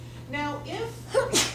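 A single short sneeze bursts out near the end, close by, right after a person speaks during a lecture.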